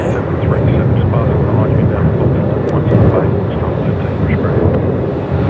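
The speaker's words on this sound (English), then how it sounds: "just catching the Melbourne to Hobart departure there" An airliner departing Melbourne for Hobart roars steadily and loudly throughout, a broad continuous engine rumble with no break.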